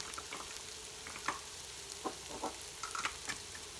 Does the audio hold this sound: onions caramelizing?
yes